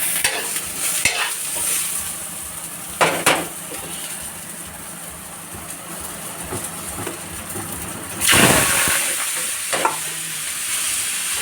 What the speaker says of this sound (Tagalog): magpe-prito tayo ng bawang tsaka sibuyas